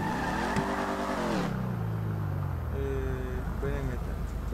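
In the game GTA 5, an untuned car engine revs and drops in a thin, weak tone, with pitch sweeping up and down under continuous talk.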